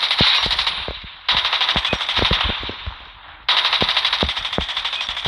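MP5 bursts in the mobile game COD Mobile, three long rapid-fire strings of sharp shots in quick rhythm, loud and close, separated by brief pauses.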